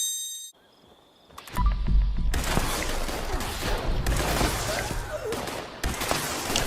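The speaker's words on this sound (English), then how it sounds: "Check out some of the damage this gun can do" Gunfire from a weapon in Fallout 76, loud bursts of rapid shots with metallic clangs, following a brief quiet start with faint electronic tones.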